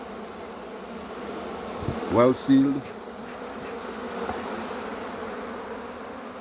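Africanized honey bees buzz around a hive frame of capped chocolate-brown brood, a steady soft hum with a louder bee passing close, under a few spoken words.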